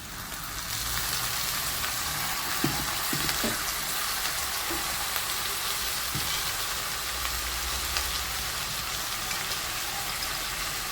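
Chicken pieces frying in a pan for Madurai-style uppu kari, a steady close sizzle throughout with a few brief stirring clatters, no voices.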